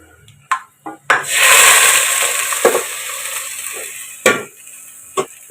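Black pepper, cloves, black cardamom, cinnamon and bay leaf crackle in hot mustard oil in a biryani pot, a loud hissing sizzle surging after a few sharp spoon knocks and scrapes, with more clanks toward the end.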